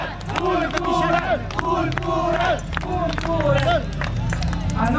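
Crowd at a birthday celebration of a cultural association shouting cheers of viva together in loud, repeated rhythmic bursts, with clapping and voices mixed in throughout.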